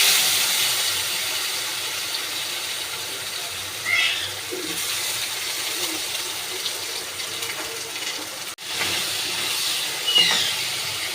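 Tomato goes into hot oil with black cumin seeds for a hilsa fish curry, raising a steady, close sizzling hiss with a couple of brief louder spits along the way.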